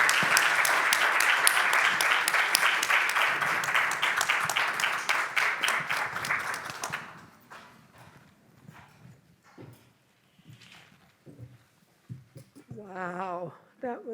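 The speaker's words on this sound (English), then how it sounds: "Let's give them another round of applause." A panel audience gives a long round of applause, dense, steady clapping for several seconds that then thins out to scattered claps, followed by a voice speaking.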